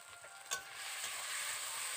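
Tomatoes with salt being stir-fried in a pan, a steady close sizzle with a single sharp scrape of the spatula early on.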